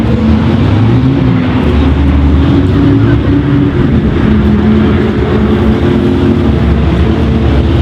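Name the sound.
F5000 racing car engine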